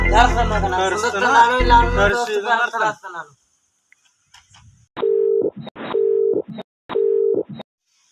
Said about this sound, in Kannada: ನೀ ನಮ್ಮ ದೋಸ್ತಗೆ ಫೋನ್ ಹಚ್ತನ್ನ